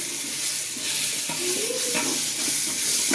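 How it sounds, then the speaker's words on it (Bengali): A large pot of meat curry with soaked dried chili paste is sautéed, giving a loud, steady, close sizzle with soft stirring scrapes underneath. "বেশ করে সটে করা হচ্ছে।"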